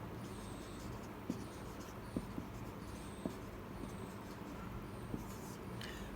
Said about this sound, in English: Now let us write some equations of motion